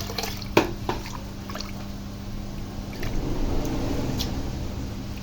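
Glutinous rice being rinsed in water for the third time, with close sloshing and swishing, a few sharp clinks, and a continuous low background hum.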